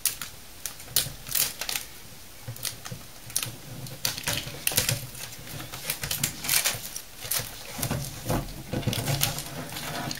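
Laptop keyboard's plastic membrane with attached rubber domes being pulled off and tearing, a run of sharp, irregular crackling snaps and peels close by, spread across several seconds with short pauses between bursts.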